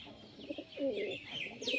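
A female pigeon coos softly nearby, with a few faint, short rolling calls and no voices.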